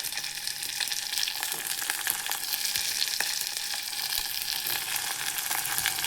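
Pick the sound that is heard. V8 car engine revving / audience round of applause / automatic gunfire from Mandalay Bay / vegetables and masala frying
vegetables and masala frying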